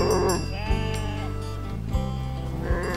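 Sheep bleat in a cartoon fairy tale, over a full musical background with repeated low accents.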